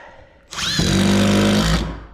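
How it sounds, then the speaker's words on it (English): Power drill boring a small hole while installing a diesel heater and vent in a shop; after a short lead-in the motor whirs up quickly and runs loud and steady for about a second before winding down. "drill a little hole"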